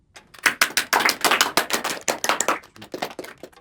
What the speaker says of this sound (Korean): 자, 청담에게 박수.